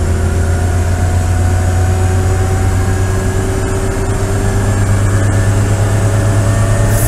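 Citroen D Special engine running flat out in top gear on a dynamometer, a loud, steady, sustained drone with a strong low hum that holds constant without pauses, no voices.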